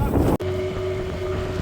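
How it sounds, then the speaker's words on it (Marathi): A birthday-trip boat arrives near the Gateway of India in Mumbai, a steady engine drone with a sustained tonal hum under wind noise, close and fairly loud, following a brief cutout. "आणि ही फायनली आमची बोट आलेली आहे."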